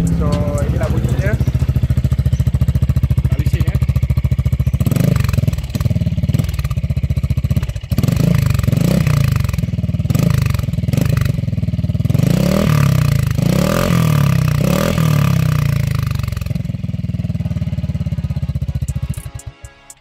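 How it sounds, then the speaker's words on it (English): A Zontes 350D scooter engine idles and revs repeatedly through a loud titanium exhaust, rising and falling in sharp bursts, with voices audible underneath. "ialah bunyi yang dihasilkan oleh enjin 350D ya, 9 silinder"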